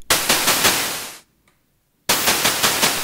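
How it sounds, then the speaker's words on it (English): A sampled snare drum with a resonant filter swept up plays as bright, crisp lo-fi hi-hat hits with a high-end shimmer, in two rapid bursts of about five close, loud strikes each, separated by a short silence. "I've rolled up the resonant filter so that I get this nice little high-end shimmer"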